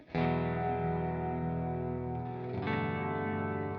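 Guitar played through an effects pedal with its knob set at noon, sustained ringing chords with a heavy effected wash and a fresh strum near the end, loud and alone.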